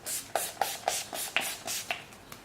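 Several quick bursts of fine makeup setting spray hiss out in a loose rhythm, each puff short and close, with no talking.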